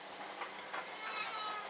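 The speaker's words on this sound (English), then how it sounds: "Madhouse here with all the cats." A domestic cat in a busy household gives a couple of faint, short meows against a hissing background noise, with no talking.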